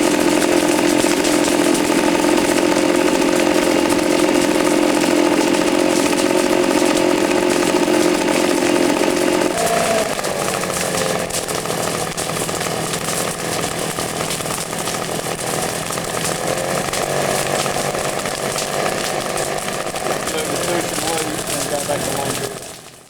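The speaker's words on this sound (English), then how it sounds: "The blower is now being used on the base of the ground" A fire service blower working at the base of a ground fire, a loud steady engine roar holding throughout, shifting slightly in pitch partway through, with voices faintly underneath.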